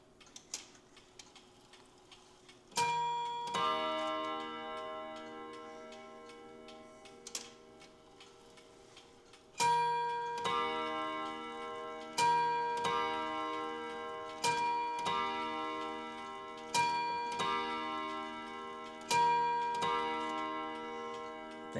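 A Gustav Becker clock ticks steadily at close range with a bright, ringing metallic tone, slightly uneven beats repeating every couple of seconds in a quiet room.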